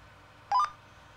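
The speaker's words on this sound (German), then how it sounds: "Ich muss mal Kevin anfunken" Radio call tone in Farming Simulator 19, a short, clear electronic beep sequence of stepped rising tones lasting about a sixth of a second over a faint low background hum.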